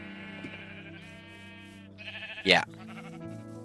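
A Minecraft sheep farm where one short, loud bleat rises clearly above a continuous backdrop of steady in-game music and ambient drone, with someone briefly speaking.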